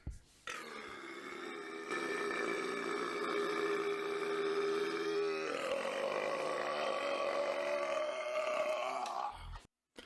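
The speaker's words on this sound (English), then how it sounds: "His special move is a supersonic burp" A long, loud, continuous burp lasting around eight seconds, rough and droning with a shift in pitch midway, heard alone.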